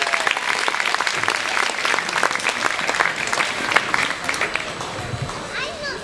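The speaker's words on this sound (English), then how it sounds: "Please give them a big round of applause." An audience at a Fremantle Arts Centre big band concert applauds the drummers with dense, steady clapping and scattered cheers that last the whole stretch and taper slightly near the end.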